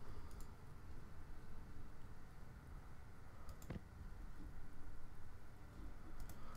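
Soft, steady rain in the video game Planet Explorers patters continuously at low volume, with a faint tick or click now and then.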